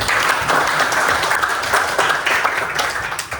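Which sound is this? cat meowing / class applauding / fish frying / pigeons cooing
class applauding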